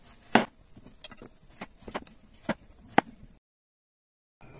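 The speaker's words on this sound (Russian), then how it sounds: "Вот такой толщиной я нарезаю кабачки." A kitchen knife slicing zucchini into thick rounds on a board, with about eight sharp, separate cuts spaced irregularly, close and fairly quiet, followed by silence.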